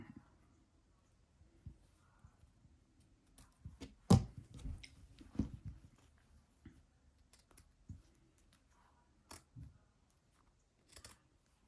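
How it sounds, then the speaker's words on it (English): Scissors snip around a stitched fabric bunny treat bag, a series of quiet, irregular close-up cuts and clicks with short pauses between them. "So let's finish cutting it out."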